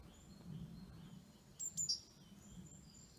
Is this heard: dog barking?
no